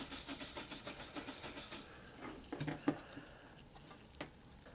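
A brass wire brush scrubs a vintage Hot Wheels Corvette die-cast car in a run of rapid, raspy strokes, followed by a quieter stretch with a few scattered scrapes and taps.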